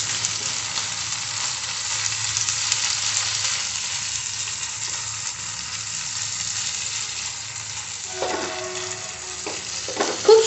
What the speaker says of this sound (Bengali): এবার একটু ভালোভাবে মশলাটা ভেজে নেবো, যাতে কাঁচা গন্ধটা আদা রসুনের চলে যায়।